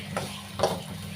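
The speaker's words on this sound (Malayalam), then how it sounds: "അങ്ങനെ വറുക്കും." Okra frying in a pan of oil, a low steady sizzle broken by two short scraping stirs, close and moderately loud with no talk.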